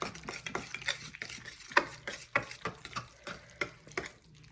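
A knife scrapes and clinks against a pan while budget food is stirred, with repeated sharp taps and scrapes in an uneven rhythm over a faint background sizzle, close up and with no voices.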